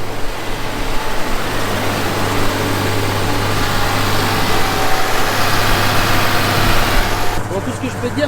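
A tractor engine idles steadily close by, a low continuous rumble with a constant hum that holds level throughout, without any revving.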